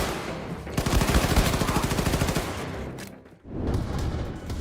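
Rapid automatic gunfire from a Wolfenstein video game, a dense burst of loud shots lasting a couple of seconds, a brief lull, then more firing and rumble.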